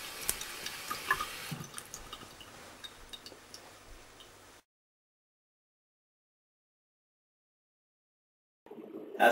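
Running tap water splashing in a bathroom sink while hands are washed, a busy hiss with small clinks for about four seconds, then a gap of silence before the water briefly resumes.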